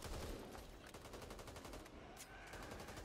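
Rapid bursts of automatic gunfire from the Back 4 Blood video game rattle continuously at close range for the whole stretch, dense and loud with barely a pause.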